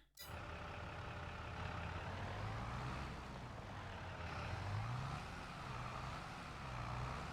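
Tractor engine in Farming Simulator 22, a steady low droning rumble that holds continuously with slight rises and falls in pitch as it revs, no voices over it.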